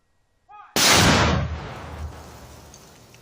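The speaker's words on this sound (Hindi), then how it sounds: "एक घाव फिर आप मन ला वो धमाका ला सुना था जब ये आईडी बम ला डिफ्यूज करेगी से।" IED bomb detonated during defusal by security forces in Chhattisgarh: a single sudden, loud blast preceded by a brief faint sound, then a long rumbling decay.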